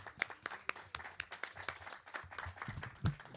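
At a World Poetry Day open mic, a small audience claps for a poet with a scattered, fairly quiet round of applause that keeps going for a few seconds with uneven hand claps.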